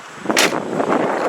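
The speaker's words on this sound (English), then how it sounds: "Close this door." The door of a gold 1995 Oldsmobile Cutlass Ciera is slammed shut outdoors, giving one loud, close thud followed by a short rattle and wind noise.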